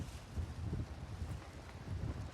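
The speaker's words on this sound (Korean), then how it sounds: "초속 약 7, 8m의 약간 강한 바람이 불고 있습니다" Steady moderate-to-strong wind gusting outdoors at a rocket launch site under cloudy skies, a low rumbling buffet across the microphone with no voices.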